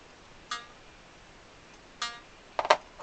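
Accordion reed from a Scarlatti 24 bass instrument, pinged with a blade: three short, clear metallic rings, single ones then a quick double, each decaying fast in a quiet room.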